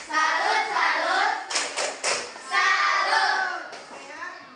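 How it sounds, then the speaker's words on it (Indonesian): A group, children among them, claps out the tepuk salut in a classroom, with quick patterned bursts of claps and slaps mixed with chanting voices. "Sekarang mari kita sama-sama tepuk salut untuk diri kita masing-masing dulu."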